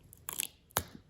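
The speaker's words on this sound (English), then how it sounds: "If we can get that Delrin pad to push up off of the silicone, it'll start releasing." A Delrin pad scraping cured silicone off a mirror, giving two short crunchy scrapes close up, the second sharper and louder, with quiet pauses around them.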